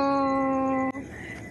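A dog lets out a sustained, tonal whimpering howl close by, holding a steady pitch before breaking off abruptly into quieter rustling; it comes from strays being fed outdoors.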